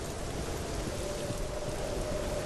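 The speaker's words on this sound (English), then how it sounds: "I hope the rain doesn't turn into knives" Steady rain falls in the video game Hellblade: Senua's Sacrifice, a dense, even wash of drops with no break, heard alone with no voices.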